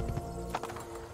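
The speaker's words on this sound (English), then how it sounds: "I like this white horse" Hooves of a white horse clip-clop in Assassin's Creed 2, a few quiet hoofbeats over soft game ambience.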